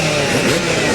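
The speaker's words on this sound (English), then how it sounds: "We're revving up" Supercross motorcycles revving together at the starting gate at a 2001 Houston race, a dense, loud, continuous engine roar filling the whole moment without speech.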